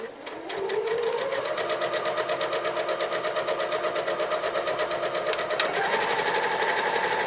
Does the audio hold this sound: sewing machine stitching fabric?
yes